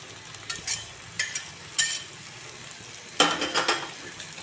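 Small kachki fish sizzle and get stirred in a pan with softened eggplant, with several bursts of scraping and frying heard up close, the last one loudest.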